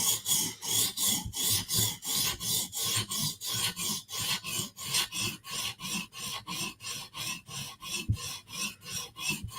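A Koenig knife blade is sharpened in a fast, even rhythm of rasping strokes, each a short gritty scrape repeating about three times a second, close and fairly quiet with no talking.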